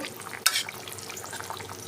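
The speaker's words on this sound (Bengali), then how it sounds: "দিয়ে ভালো করে আমি আলু আর ওলের সঙ্গে মিশিয়ে নিচ্ছি।" Fried tilapia pieces being stirred into a thin curry with potato and yam, a single close spoon scrape and splash standing out over a soft, steady simmering sizzle.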